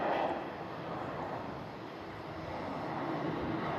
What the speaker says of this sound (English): We do have a Ryanair departing on the south side.